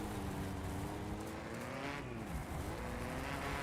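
Steady loud engine roar from a rally car in the WRC game as it slides through a hairpin on the handbrake, revs dipping and rising with gravelly tire skid underneath.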